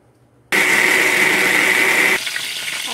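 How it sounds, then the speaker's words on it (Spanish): A kitchen blender runs loud and steady, blending boiled chiles, tomatoes, onion and garlic with water, salt and chicken broth for a salsa, switching on abruptly after a quiet moment and dropping to a lower whir near the end. "Aquí lo puse ya en la licuadora."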